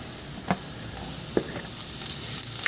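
Onion added to a pan of oil with ginger and garlic sautés with a soft, steady sizzle, broken by a few light taps from stirring.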